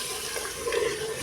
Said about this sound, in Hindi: तो इसमें अभी थोड़ा सा पानी ऐड करूँगी